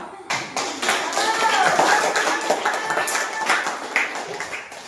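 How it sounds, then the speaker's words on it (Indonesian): A classroom of students claps for a group after its presentation: steady, fairly close applause that runs for several seconds before thinning out. "kita beri aplaus untuk kelompok 2."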